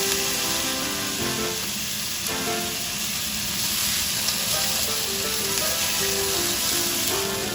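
Wine splashes into a hot pan while lemon ginger chicken wings cook, and a loud, steady sizzle and fry hiss runs close up throughout, with no voices.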